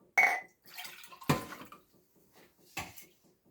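Water is poured off from a cooking pot of scouse, a few short splashing bursts with clinks of the pot between them, close and fairly quiet with gaps of near silence.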